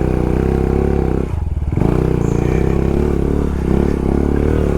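A dirt bike engine throttles hard on a soft, muddy trail, a loud, close, continuous roar that briefly drops and then surges back as the rider pushes through.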